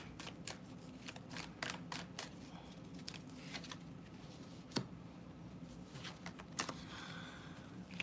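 A deck of playing cards being shuffled at close range, with quick riffling bursts and soft slaps repeating steadily, no voice heard.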